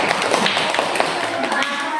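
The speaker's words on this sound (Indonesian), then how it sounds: "Tepuk tangan dulu untuk kelompok 1" A small group claps for group 1 after a class presentation, a brief patter of scattered hand claps that continues evenly for a couple of seconds.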